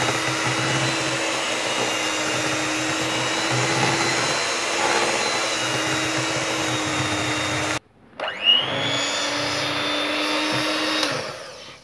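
An electric mixer whirs loudly and steadily as it beats biscuit chocolate cake batter. It cuts out abruptly, then restarts with a rising whine before running on at a steady pitch.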